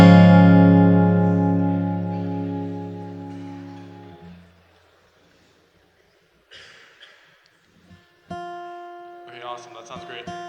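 An acoustic guitar is strummed once at a soundcheck for an Indigenous symposium, ringing out and slowly fading over several seconds, followed by quiet and then another short strummed chord.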